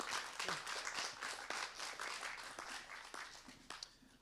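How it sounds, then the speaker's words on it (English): Festival panel audience applauding a speaker, a quiet, fairly brisk clapping of a modest crowd heard from a distance, fading slightly toward the end. "Big round of applause for Diana"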